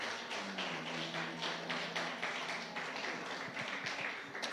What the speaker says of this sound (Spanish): Dar un aplauso fuerte al Señor por eso.